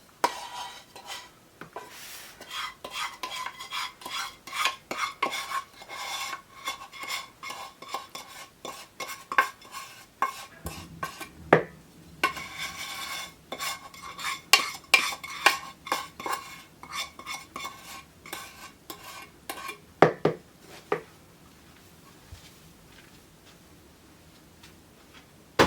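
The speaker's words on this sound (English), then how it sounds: "then we're going to dump it into our bowl with the oatmeal and our mixture" Hot caramelized mixture is scraped out and stirred into oatmeal in a bowl, making a long run of clinking, scraping utensil-on-bowl knocks in an irregular rhythm, close and clear, thinning to a quiet hum near the end.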